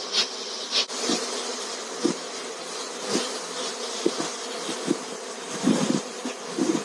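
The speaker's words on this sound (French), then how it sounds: "C'est le secteur qui fait le plus de bruit qui attire les abeilles." A honeybee swarm buzzing as it flies through a garden, a continuous busy drone of many bees with individual insects passing close to the microphone now and then.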